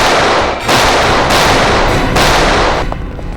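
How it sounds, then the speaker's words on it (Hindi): Loud, harsh gunfire roars at a firing range in three sustained bursts separated by brief dips, close and overwhelming, then tails off. "Firing range."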